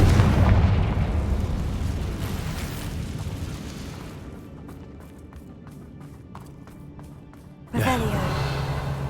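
In the video game Hogwarts Legacy, the Confringo spell sets off a fiery explosion with a deep rumbling boom, followed by crackling pops and a second sharp blast near the end, loud and close.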